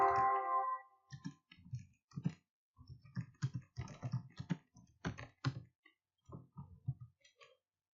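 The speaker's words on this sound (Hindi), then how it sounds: "जैसे कि मैं यहाँ से टाइप करता हूँ" Close, crisp keystrokes tapped in short irregular bursts on a computer keyboard during desktop text entry, alone without talk.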